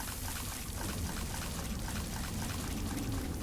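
Continuous rushing pour of water by a machine in a video game, a steady dense wash of sound at low level with no pauses and no talking.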